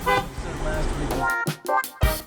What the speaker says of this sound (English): the honk was meant for them